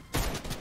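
A short, loud burst of Fortnite gunfire, with one sharp blast followed by a quick rattling tail of rapid shots.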